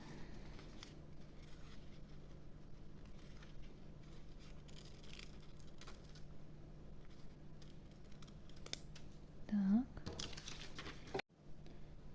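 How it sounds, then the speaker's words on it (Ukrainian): Quiet snipping and rustling of scissors cutting a paper teapot lid, soft and close, with brief handling noises and a short voiced sound near the end. "Тепер я вирізаю"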